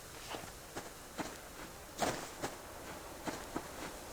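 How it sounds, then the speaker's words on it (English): Footsteps in the survival game Subsistence in autumn: soft, fairly evenly spaced steps, around nine of them, at a walking pace with one slightly heavier step midway, heard alone over a quiet background. "That double footstep noise there sometimes really catches me out."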